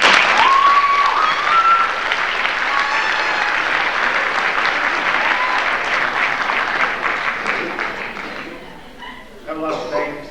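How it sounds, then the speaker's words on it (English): Audience applause fills the hall at a school's winter sports awards ceremony, loud and sustained for about eight seconds before thinning out, with a faint tone and a brief stir of voices near the end. "they deserve a big round of applause"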